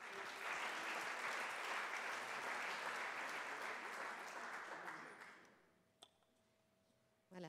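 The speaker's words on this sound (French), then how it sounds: "je pense qu'on peut les applaudir collectivement une nouvelle fois" Collective applause for award winners at a regional day event, a dense, loud burst of clapping that holds for about five seconds, then fades away to near silence with a few stray sounds.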